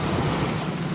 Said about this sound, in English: These are waves, right?